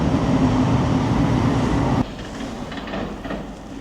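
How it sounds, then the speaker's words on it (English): A train rumbles past loudly, a dense rolling roar that suddenly drops to a quieter clatter as it moves away. "There goes the train."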